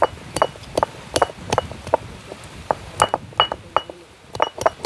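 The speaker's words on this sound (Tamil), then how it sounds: "இப்படி குட்டி போட்டு தான் அரைக்கிறது மஞ்சள்" Dried turmeric ground by hand on a stone grinding slab in a village kitchen, giving close, sharp stone-on-stone clinks and knocks in an uneven, repeating rhythm with no talking.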